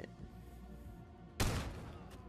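A modded gun fires in the VR game Bonelab, a single loud burst of rapid shots cutting in sharply partway through over a quiet, steady background hum.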